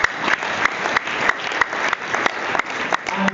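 An audience at a live business summit in Abuja claps for GTEx, a dense run of hand claps that pulses unevenly and stays loud and close.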